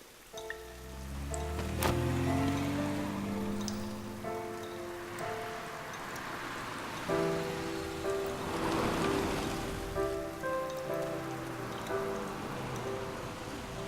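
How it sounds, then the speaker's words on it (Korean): Steady rain patters and splashes on hard surfaces, with a soft background hiss and some faint tonal sounds mixed in. "굵은 빗방울이 쉴 새 없이 떨어지고 있다"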